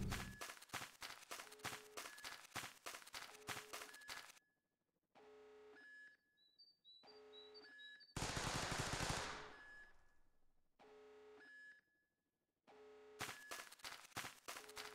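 Rapid bursts of automatic gunfire in a video game with surround sound, loud repeated volleys with short gaps, electronic beeps and a harsh noisy blast midway, ending in more close, fast firing.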